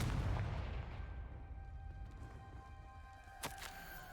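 A Confringo spell explosion in the Hogwarts Legacy video game, a faint low boom that fades out over several seconds, with a small sharp crack near the end.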